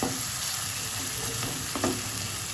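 Chicken mince is stir-fried in spice masala over a medium gas flame, giving a continuous close sizzle with soft scraping and stirring noises from a spatula.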